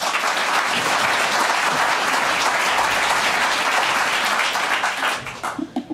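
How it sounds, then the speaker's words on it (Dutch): Warm applause from a sold-out hall audience welcoming a primary school teacher from Amsterdam as a speaker, a dense sustained wash of clapping that breaks into a few scattered claps at the close. "Mag ik een hartelijk applaus voor leraar in het PO hier in Amsterdam"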